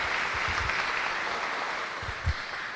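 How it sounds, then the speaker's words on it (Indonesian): Steady, dense applause fills the room at a wedding ceremony, a broad even wash of many hands clapping at moderate distance with a few louder nearby claps standing out. "Tepuk tangan juga dong."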